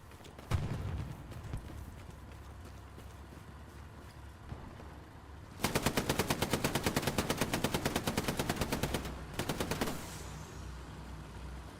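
Machine gun fire in the video game Hell Let Loose on an Omaha Beach map: a few scattered shots, then a long rapid burst of evenly spaced bangs with a brief pause before it resumes, fairly close amid battlefield ambience.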